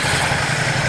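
Ducati XDiavel Dark motorcycle engine (2021) idling at a steady, fairly loud rumble, close by and continuous with no talk over it.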